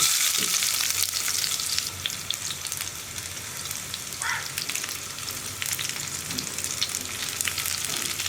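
Round-cut onions fry with popped mustard seeds in hot oil for plantain peel green gram curry, a steady close sizzle and crackle broken by occasional scraping stirs.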